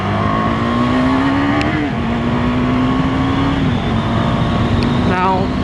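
A KTM 390 Adventure motorcycle drones loudly as its engine pitch climbs and holds while riding in traffic, with a voice talking over the engine noise.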